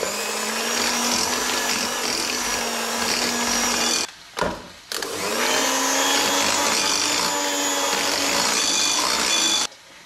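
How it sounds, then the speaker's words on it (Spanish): An electric mixer beating eggs, added one at a time, into oatmeal chocolate chip cookie dough, a steady close motor whine that stops briefly for a moment, resumes, then cuts off near the end. "Voy a aumentar un huevo, voy a batir, voy a aumentar el segundo y voy a batir."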